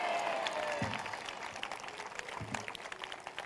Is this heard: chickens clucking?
no